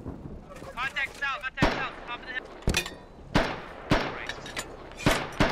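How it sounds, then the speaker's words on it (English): A self-propelled gun fires in the game Squad with sharp, heavy booms. Several distinct blasts break out over a few seconds, mixed with other gunfire, while voices talk over radio between them. "Still on the SPG. Fires another shot."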